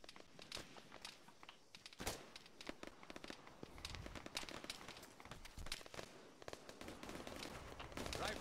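Gunfire from an ARMA 3 co-op battle, a busy run of sharp cracks and bursts firing in quick succession, some near and some farther off, with a steady background din between the shots.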